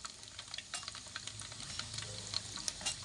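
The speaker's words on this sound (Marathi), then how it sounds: "ह्याच्यामध्ये आता आपण मेथीचे दाणे घातलेले आहेत, तेही व्यवस्थित भाजून घ्यायचे आहेत." Fenugreek seeds and whole spices roast in hot oil for a homemade black masala. Close, steady crackling sizzle with scraping stirs and small pops throughout, and no talking.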